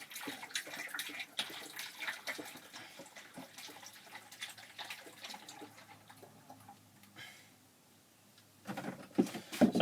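Apple juice from a carton pouring into a cider fermenter, a quiet gurgling, splashing stream that runs for several seconds, tapers off and stops, followed by a few faint knocks and handling sounds.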